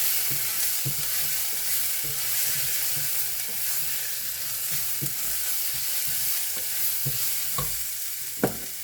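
A spoon stirs turmeric, Kashmiri chili and coriander-cumin powder into a hot pan for chana dal rice, giving soft scrapes and taps over a steady close sizzle, with no talking.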